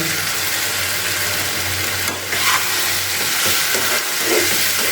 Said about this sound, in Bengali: এবার আমি ধুয়ে রাখা চিকেনটাকে এর মধ্যে দিয়ে দিলাম